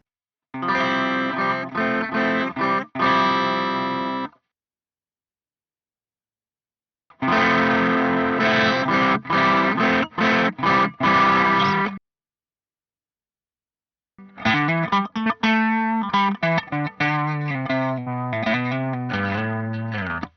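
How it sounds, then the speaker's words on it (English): Three bursts of electric guitar played through the Saturate control of a Generation Loss Mk2 pedal, a tape-style saturated distortion, thick and crunchy, separated by silent pauses. "recreate some of that dynamic distortion that you get when you play loud signals into a real tape machine"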